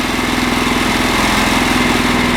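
A vehicle engine runs at a steady idle, loud and close, with an even pulsing drone throughout and no voices.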